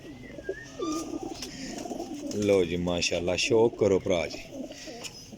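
Pigeons coo in quick rhythmic bursts close by, a repeated throaty warble under someone talking.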